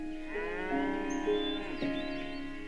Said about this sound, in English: Another awesome being is the cow.